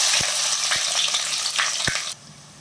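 Chopped onions dropped into hot oil for a tomato prawn curry, crackling and sizzling loudly up close with a few sharp clinks of a utensil, then the sizzle abruptly drops to a quieter hiss.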